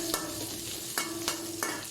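Garlic, onion and ginger sauté together in a pan for laing, with a steady sizzle broken by a few sharp stirring scrapes, close and moderately loud, no voices.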